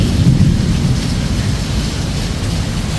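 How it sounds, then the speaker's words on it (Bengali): Heavy downpour in Korea with thunder, a dense continuous roar of rain with low rumbling, loud and close, with no voices. "অঝোর ধারায় বৃষ্টি হচ্ছে, প্রচুর বৃষ্টি।"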